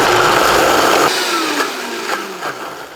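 A blender whirs loudly through an oat mixture for a few seconds, its motor pitch sagging and wavering as the thick blend catches, heard close and alone.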